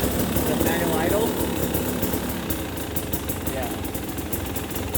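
A 2020 KTM 300 XC TPI two-stroke motorcycle engine idles steadily and close throughout, with people talking over it.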